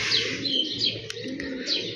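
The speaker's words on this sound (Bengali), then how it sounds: "কবুতরগুলা ভালো ফ্লাই করছে অনেক হাইট নিচ্ছে" Pigeons in flight make a steady stream of bright chirps and soft low coos, fairly close and continuous, with no voices.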